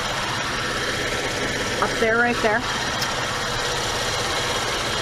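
Idling 3.6-liter V6 in a 2019 Chevrolet Traverse LT AWD, a steady low hum heard close under the open hood, with someone talking briefly over it.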